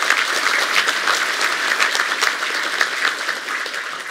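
A packed hall applauds at an academic-year inauguration ceremony at Koszalin University of Technology, dense steady clapping from a large audience sustained and loud throughout.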